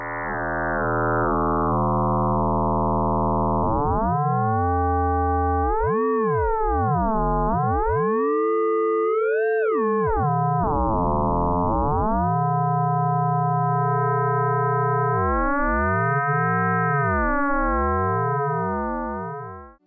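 FM synthesizer tones built in Pure Data from two oscillators produce a continuous electronic sound that sweeps, wobbles and glides between pitches, growing richer and shimmering with shifting overtones, loud and unbroken throughout.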